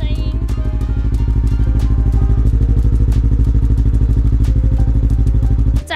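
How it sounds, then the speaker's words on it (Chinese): A Honda Rebel 500 motorcycle with a modified black-and-gold build idles through its exhaust, a loud, close, steady low pulsing thump with a rattly mechanical edge, uninterrupted for several seconds. "我们刚刚有说想要听一下排气管的声音"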